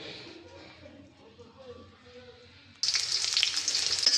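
Tilapia fish curry with cauliflower, beans and potato cooking in a pan, starting as a quiet simmer. At about three seconds it turns into a loud, bright, steady sizzle.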